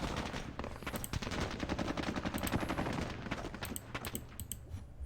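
Squad-level Vietnam War gunfire in a turn-based computer wargame set in Hue City, 1968: dense rapid bursts of rifle and machine-gun shots crackling continuously, fairly quiet overall.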